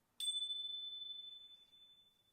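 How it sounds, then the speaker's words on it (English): A single meditation chime rings out once during yoga breathing practice, a bright clear strike that hangs and slowly fades over a couple of seconds in a quiet room. "3 chimes now, breathing in on the chime"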